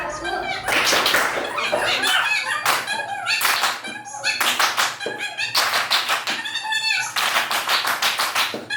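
A classroom of fourth-grade children performs a patterned clapping ice-breaker, with bursts of sharp rhythmic claps in repeated groups alternating with a teacher's voice and children's voices calling out.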